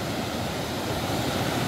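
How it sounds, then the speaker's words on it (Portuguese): Cachoeira dos Frades waterfall in Vale dos Frades, swollen after heavy rain upstream, gives a dense, continuous rushing roar of falling water, close and steady throughout. "olha essa cachoeira"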